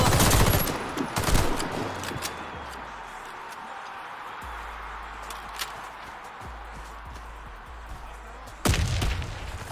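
Video game gunfire rattles in sharp bursts at the start and again near the end, with scattered single shots in between over a low steady hum, while players talk over voice chat.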